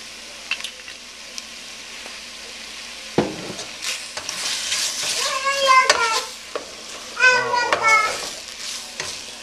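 A medium-large onion fries in oil for a homemade stew, a light sizzle punctuated by stirring clatter, with children's voices rising in the background partway through.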